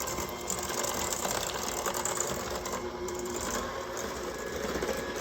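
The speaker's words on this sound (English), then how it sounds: "This is just fine with a hand mixer. We're going to mix this up really good." An electric hand mixer whirs steadily through apple cake batter, a continuous buzzing mechanical drone with a faint rattling grind, close and even.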